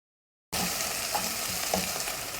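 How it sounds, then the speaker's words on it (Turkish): Tomato paste and flour frying in a pot for Turkish tutmaç soup, a steady close sizzle with faint stirring scrapes and no voices. "Unun kokusu çıkana kadar kavuralım."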